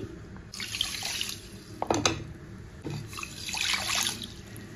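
Water from a tap runs into a pot holding a bowl of sugar for syrup, a steady close splashing and trickling that rises, breaks off briefly, then resumes louder.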